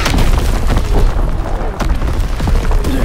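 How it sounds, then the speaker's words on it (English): Enemy artillery in the Call of Duty WWII video game: loud, dense booming blasts and rumbling impacts that fill the whole stretch, with a brief dip in the middle. "Incoming enemy artillery."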